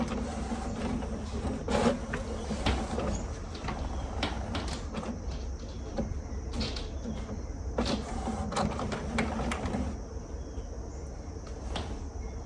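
An Epson EcoTank 8550 printer running its initial setup gives off a steady mechanical whirr with repeated sharp clicks and short sliding knocks, close and continuous throughout.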